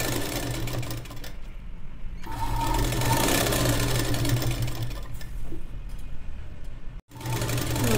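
A sewing machine runs close and steady, stitching along the lining edge of a child's long gown with a rapid mechanical hum, easing briefly near the middle and stopping for a moment near the end.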